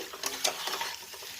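Jackfruit curry with spices being fried and stirred in oil, a soft continuous sizzle broken by a few scraping stirs of the spoon, close up with no talking.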